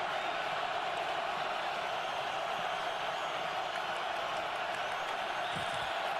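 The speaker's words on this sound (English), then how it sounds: "Crowd trying to jam the signals" A stadium crowd at an NFL playoff game between the Seattle Seahawks and Philadelphia Eagles roars in a steady, loud, continuous wash of noise meant to jam signals. A faint thud comes near the end.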